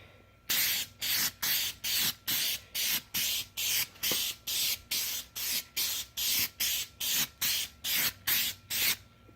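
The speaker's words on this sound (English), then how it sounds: "Let's do a little test spray." Clear coat sprayed from an aerosol can onto a sanded, yellowed car headlight during restoration, about twenty short evenly spaced hissing bursts, close and distinct, with no talk.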